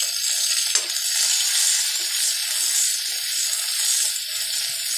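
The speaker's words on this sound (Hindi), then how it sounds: "सारी चीज़ों को हम तेल में भून लेंगे।" Ginger-garlic paste and crushed green chili frying in hot oil for aloo patties, a steady close sizzle with occasional stirring clicks, no talk over it.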